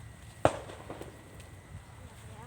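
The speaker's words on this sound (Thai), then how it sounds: "เสียงประทัด" A single sharp firecracker bang sounds once at a distance, followed by quiet outdoor ambience beside a canal along a railway.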